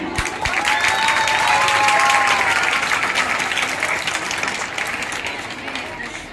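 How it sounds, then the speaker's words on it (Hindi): Audience at a college celebration of Lala Lajpat Rai's birth anniversary in Thana Bhawan applauding loudly to welcome a speaker, a dense sustained round of clapping with voices and a few shouts mixed in, easing slightly near the end. "मंच पर आते ही जोरदार तालियों से उनका स्वागत कीजिएगा।"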